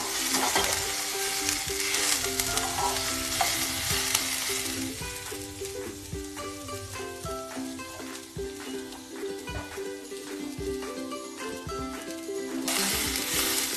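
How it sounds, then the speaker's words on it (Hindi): Ginger, garlic and onion sautéing in a pan for masala bhindi, a steady close sizzle with soft stirring scrapes throughout, no voices. "देखना हमारा अदरक लहसुन और प्याज भूनकर बिल्कुल तैयार है।"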